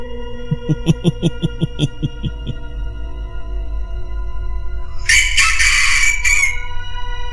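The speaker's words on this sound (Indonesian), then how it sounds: "Suara kokok ayam begitu nyaring di telinga" A rooster crows loudly nearby in one long, strained call after a run of rhythmic clucks, over a low steady hum.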